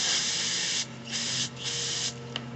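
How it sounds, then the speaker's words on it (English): Brake cleaner sprays onto a Briggs and Stratton 140cc mower carburetor from a Craftsman M100 in three close, loud hissing bursts with brief gaps between them, and nobody talks. "This is brake cleaner, but I use carb cleaner too."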